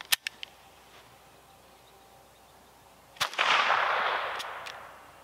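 A Taurus TX22 .22 semi-auto pistol fires CCI Quiet ammunition: a few soft, sharp cracks, then a louder report trailing into a fading hiss, with more small clicks following, close and without speech.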